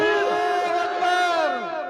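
A crowd at a welcome gathering in Kulgam, Kashmir, roars a loud unified chant in answer to a Takbir slogan, voices swelling together then trailing off within about two seconds.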